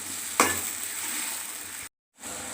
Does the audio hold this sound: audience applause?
no